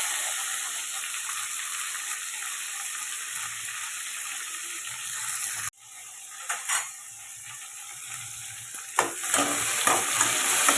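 Onions and tomatoes sautéing in a pan for a Tamil squid thokku, a steady close sizzle throughout, broken at midpoint as the pan is disturbed, followed by louder frying with scattered stirring clinks and pops.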